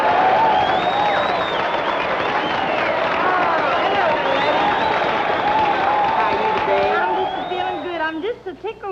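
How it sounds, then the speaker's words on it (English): A Grand Ole Opry audience greets a performer with sustained, dense applause and scattered cheers, a broad steady roar that thins out near the end as voices come in. "Give a nice round of applause, if you will, please"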